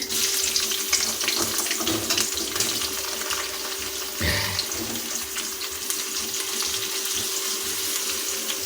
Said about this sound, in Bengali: আমরা এই গরম তেলের উপর দিয়ে দিচ্ছি কুচানো পেঁয়াজ